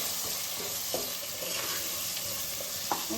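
Chopped onion and spices fry in a pan for masoor pulao, giving a steady soft sizzle with occasional stirring scrapes and small pops, moderately close and with no talking.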